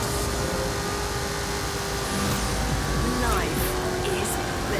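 A car drives in the racing video game Forza Horizon 5, its engine and road noise forming a loud, steady, continuous roar that holds evenly from start to finish.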